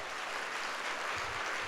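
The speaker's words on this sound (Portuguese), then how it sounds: "eu queria um aplauso a Jesus pela vida delas" A church congregation at a Sunday service applauds, a steady, soft wash of clapping throughout the short span.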